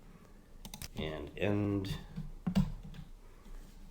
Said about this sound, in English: I'm going to type with the keyboard